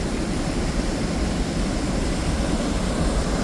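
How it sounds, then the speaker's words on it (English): A plane coming in to land gives a steady, broadband rumbling roar that holds evenly throughout, with no other sounds standing out. "A plane coming in there."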